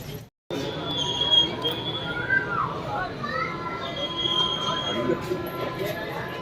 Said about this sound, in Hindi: आ गई शायद ट्रेन, आवाज़ दे रही है